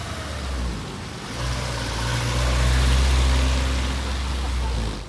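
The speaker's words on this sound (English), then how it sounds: "I hear a car coming." A car engine rumbles low and grows louder as the car approaches at a classic car breakfast meet in Singapore, its drone swelling steadily then easing slightly toward the end.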